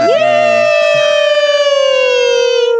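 A loud electronic siren sweeps upward and then holds a wailing, steady tone that slowly sags lower in pitch.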